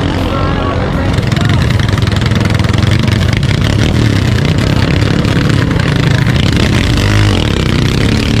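Loud, steady roar of a racing bangka boat engine at a Batangas boat race, running continuously close by with a rough mechanical drone; voices can be heard talking over it.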